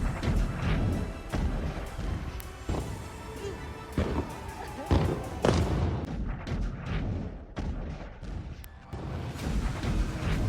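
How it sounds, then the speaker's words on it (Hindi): Heavy booms and blasts of ballistic missiles striking Israel crash repeatedly, some sharp and some rumbling, overlapping in a loud chaotic barrage with distant voices. "जोरदार धमाके की आवाज से आसमान थर्राया।"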